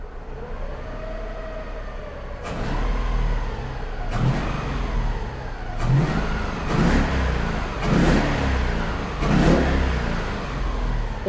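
A Toyota 1UZ V8 swapped into a Subaru BRZ idles smoothly, then gets revved in a series of five or six sharp throttle blips, each swelling and falling back, close and loud.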